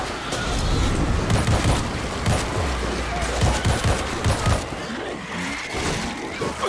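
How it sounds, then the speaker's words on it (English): Gunfire in the World War Z video game during the Moscow chapter, a dense, continuous barrage of rapid shots and explosions mixed with rumbling noise, loud and sustained throughout. "We're hearing gunfire from the river."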